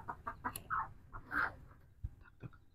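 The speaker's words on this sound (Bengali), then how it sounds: "মুরগি শব্দ করতেছে" A chicken clucks in a string of short, quiet calls with a brief louder squawk in the middle, heard close with no talk.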